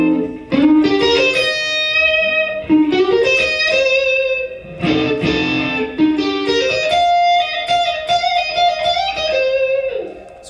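An electric guitar with distortion plays a minor pentatonic blues lick over the 4 chord, bending and sliding through quick phrases in bursts that ring out between pauses, loud and close with no speech.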